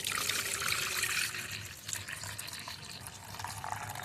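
Homemade insecticide liquid pours and trickles through a strainer, a close, continuous splashing dribble that eases slightly midway and then carries on alone without speech.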